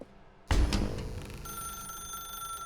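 A telephone starts ringing in a dark room in The Stanley Parable: Ultra Deluxe, its sudden onset followed by a sustained shrill tone over low room ambience.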